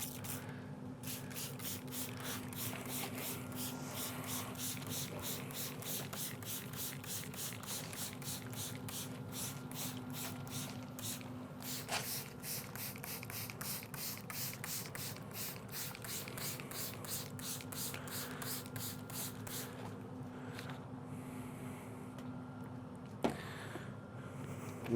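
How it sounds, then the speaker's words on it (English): Repeated spritzes from a spray bottle misting a brisket before it is wrapped for an overnight pellet-grill cook, a steady run of short hissing bursts over a constant low hum, ending with a faint click. "we're also going to give this a good spray"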